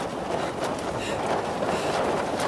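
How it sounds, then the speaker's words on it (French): Strong wind roars at night high in the mountains, a steady, dense broadband rush with no pauses, loud and close as if buffeting the microphone. "d'entendre le bruit du vent comme ça, c'est affreux"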